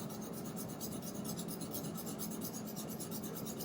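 Knife blade rubbed across a sharpening stone makes a soft, rhythmic gritty rasp in quick repeated strokes, close but quiet, with no voices.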